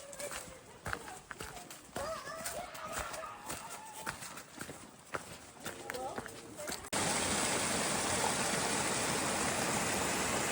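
Strong water flow at a hiking trail shelter's water source pours loudly and steadily over the final few seconds, after a stretch of rustling, footsteps and a voice.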